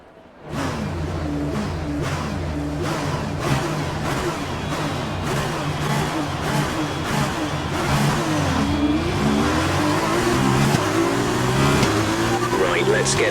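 An F2 race car engine in a video game at the Austrian GP revs hard and climbs through the gears, its loud whining pitch rising and dropping with each shift as it pulls away.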